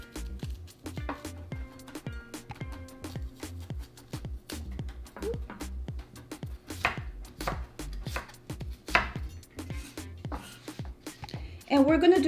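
A knife julienning apple and pear for apple pear kimchi thuds against a cutting board in fast, even, close strokes. The rhythm slows midway, and a louder rustle and clatter comes near the end.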